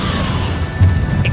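A Confringo spell cast in the Hogwarts Legacy video game, a single sharp fiery crash with a brief whooshing burst over a steady game background, close and loud.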